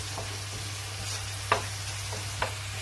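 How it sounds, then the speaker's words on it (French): Onions and garlic fry in a pan as the base for a Spanish paella, a steady sizzle running throughout with a couple of sharp scrapes from stirring. "à la poêle avec l'ail en train de cuire"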